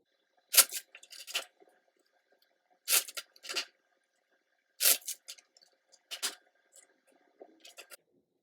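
Quick papery riffling bursts come in pairs with short pauses between, crisp and close, tarot cards being shuffled in a quiet room.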